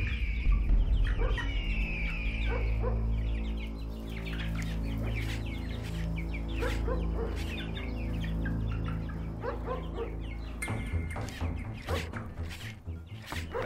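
A cartoon chicken clucks in repeated bursts over a steady background hum and music, the calls fairly close and clear with no talk.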